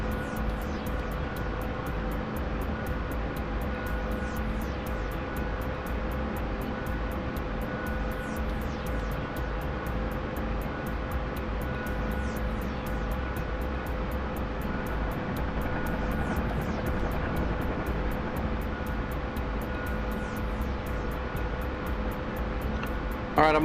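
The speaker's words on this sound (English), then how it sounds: "Another long ass Huey flight." Continuous drone of a Huey helicopter in flight within a video game, a steady engine and rotor roar with a rapid thrumming texture that holds at an even level throughout, with no voices.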